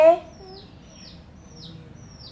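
A short sound opens, then a chick peeps four times in thin, high cheeps at an even pace against a quiet background.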